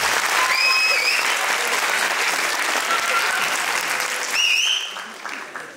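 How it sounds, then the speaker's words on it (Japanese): Loud audience applause for idol performers at a school event, a dense steady wash of clapping that fades near the end, with a few high whoops or squeals rising above it. "改めて究極のアイドルの皆さんに大きな拍手をお願いいたします"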